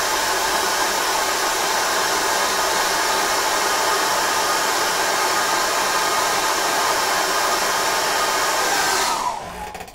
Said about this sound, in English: put hairdryer on it.